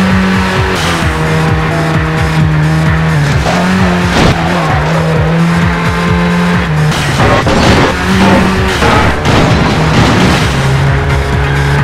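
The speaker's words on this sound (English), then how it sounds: "The Lexus GS430." A Lexus GS430 street racing in the video game Midnight Club 3: DUB Edition, loud engine roaring through gear changes with repeated tire squeals and skids, continuous and close throughout.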